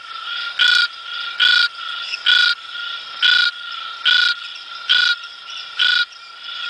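A frog in a misty, warm habitat calls in a steady series of about eight loud, evenly spaced pulsing croaks, close and alone over a faint insect-like background hum.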